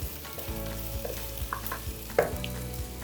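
Hing dropped into hot oil with red chillies, chopped garlic and ginger for masoor dal, a quiet close sizzle and frying crackle with soft stirring scrapes, no voices.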